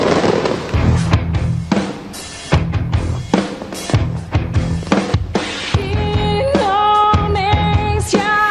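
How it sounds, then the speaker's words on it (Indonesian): Fireworks burst over Monas in Jakarta at a national independence anniversary carnival, a series of loud sharp bangs and crackling pops with whistling rising tones, close and continuous. "seketika langit Monas berwarna-warni saat pertunjukan kembang api digelar"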